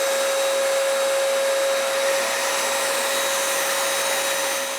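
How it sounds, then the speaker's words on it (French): A spray gun hisses steadily and close as it lays a coat of varnish on four wood panels, a continuous even airy rush with a faint tone under it and no talking. "je vaporise une couche de vernis ces 4 panneaux"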